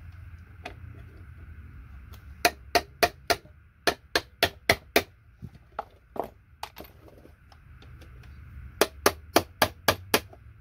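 A hammer drives a chisel against chips on scrap circuit boards, giving loud, crisp metallic strikes in quick rhythmic bursts of four to six blows separated by short pauses, close and alone over a low background hum.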